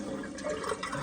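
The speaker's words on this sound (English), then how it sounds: "now I'm gonna do even closer up flush of the trapway" An Acorn stainless steel tank toilet flushes up close with a rushing gurgle of water draining through the trapway, steady and moderately quiet for about a second.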